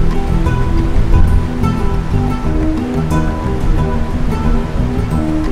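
Ocean surf rolls onto a wide sandy beach along a rugged tropical coastline, a continuous loud wash of breaking waves with no voices.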